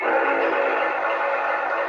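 A Lionel LionMaster Challenger model train sounds its whistle in one sustained, steady chord-like tone with a breathy edge, loud and close, holding without a break.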